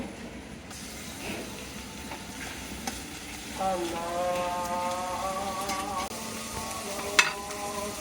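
Ginger and garlic paste hits a hot pan and sizzles, with soft stirring scrapes and a rising hiss as the paste fries, close and moderately loud, no talking.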